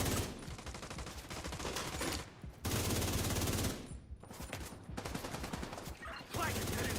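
Gunfire in The Division 2 video game, dense bursts of automatic fire rattling in long stretches with brief pauses between, loud and close, mixed with game effects.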